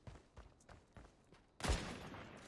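Gunfire in the video game Caliber, several soft, rapid shots in a quick burst followed by a louder, sharper blast that leaves a sustained ringing tail.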